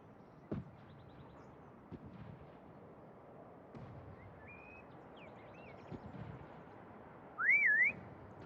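In CoD Mobile's prop hunt mode, a whistle sounds: a few faint rising and wavering tones, then a louder swooping one near the end, over distant game rumble and occasional booms.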